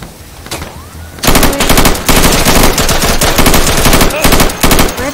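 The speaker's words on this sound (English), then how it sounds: "Where are they shooting at?" Heavy automatic gunfire in the video game Insurgency, loud and sustained rapid bursts with short gaps, starting after a quieter opening second and running to the end.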